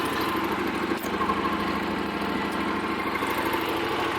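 A 2021 Yamaha Tenere 700 motorcycle engine idles steadily up close, a low, even throbbing rumble with a brief dip near the one-second mark and no talking.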